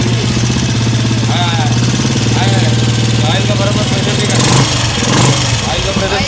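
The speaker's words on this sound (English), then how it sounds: "देखो गाड़ी चालू हो गया" A restored old Royal Enfield Bullet engine idling steadily after being started, with a loud, continuous low thumping pulse running throughout; voices talk over the engine in places.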